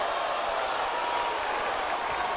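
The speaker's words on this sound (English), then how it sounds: "the crowd goes nuts" A large boxing arena crowd roars and applauds steadily throughout, a dense wash of cheering with a faint voice mixed under it.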